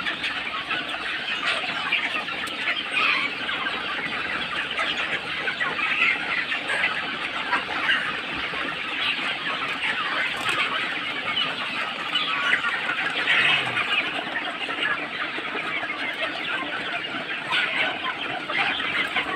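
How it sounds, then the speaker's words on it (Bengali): Chickens raised for sale clucking on a poultry farm, a dense, steady flock chorus that carries on without a break throughout. "এই মোরগ"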